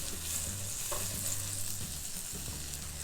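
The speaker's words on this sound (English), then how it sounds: "So to this pan, which is already preheated, I am going to add our butter." Butter melts in a preheated pan with a constant close hissing sizzle over a low steady hum, and no voices.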